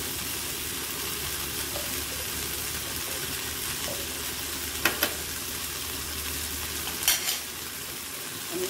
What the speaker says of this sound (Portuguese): A mexida aqui nesse arroz